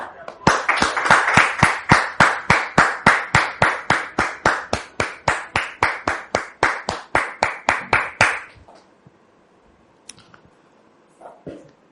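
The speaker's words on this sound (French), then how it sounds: "sous vos applaudissements." A studio audience welcoming a guest claps in sharp, evenly timed unison beats, loud and rhythmic for about eight seconds before stopping abruptly, leaving faint room noise and a brief stray sound.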